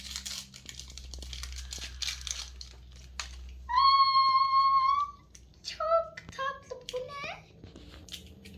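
Plastic packaging of an L.O.L. Surprise toy is unwrapped, with crinkling and rustling bursts through the first half, then high tonal calls that sound like a cat meowing or a child squealing, with softer rustles between them.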